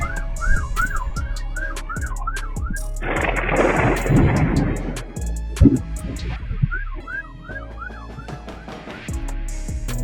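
Thunder from a lightning strike on a house rumbles loudly for several seconds, the burst cutting across a siren-like whooping alarm that wails before and after it.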